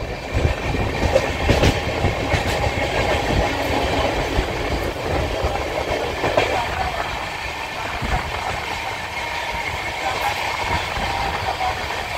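A train runs on rails as heard from inside a crowded sleeper coach, with a continuous rumbling roar and clickety-clack of the wheels at a steady level throughout.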